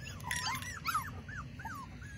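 A big dog whimpers and yips in a rising, whining pattern outdoors, several short high cries spaced through the moment over a steady low background rumble.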